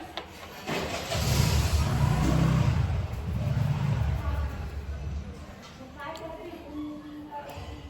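A car engine rumbles on the road below a home, swelling loudly for a few seconds and then easing to a steady low drone, with a person talking over it.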